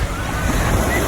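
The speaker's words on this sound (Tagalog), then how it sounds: "Ay, grabe ang alon." Sea waves at a beach in Morong, Bataan give a brief, close rush of surf blended with gusty wind noise on the microphone.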